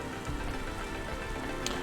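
Steady, dense patter of rain falling on a surface in the video game Cloudpunk, fairly quiet and even throughout, with no voices.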